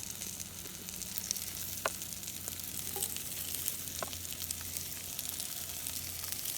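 Squash slices laid flat in a pan over a campfire sizzle in a constant close crackle, with occasional soft clicks and pops and a low fire rumble beneath, no talk.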